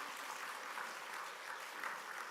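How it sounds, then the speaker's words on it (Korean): Church congregation applauding during an Easter Sunday morning service; soft, continuous patter of many hands clapping, faint and somewhat distant, steady for a couple of seconds. "우리 박수로 한번 격려해 주시기 바랍니다"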